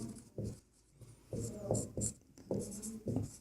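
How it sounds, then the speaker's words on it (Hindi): A pen or chalk writing out the solution to a class 10 maths problem: close scratchy strokes in short bursts with brief pauses between them, no voices. "यहाँ लिखते हैं हल।"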